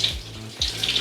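Running water from a tap splashes steadily onto curly hair during a hair wash, close and moderately loud over about a second.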